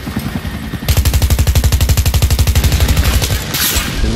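Rapid automatic gunfire from Battlefield 3 rattles in a fast, steady burst of evenly spaced shots after a brief lead-in of ambient game noise, loud and close, ending with a short hiss.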